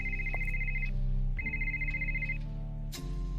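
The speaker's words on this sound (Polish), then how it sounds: "Któż to znowu do nas dzwoni?" An in-game telephone rings in the adventure game Art of Murder with a steady electronic tone. Two long ring bursts are separated by a short gap and a third begins at the end, loud and close over a low background hum.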